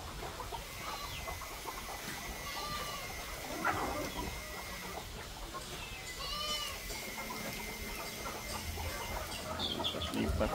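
Chickens on a farm with goats, a hen clucking and squabbling with another, soft intermittent clucks and short calls over a quiet rural background.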